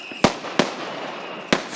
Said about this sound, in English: I'm filming the fireworks.